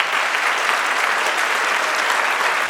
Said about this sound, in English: Give those middle school bands another round of applause, would you please?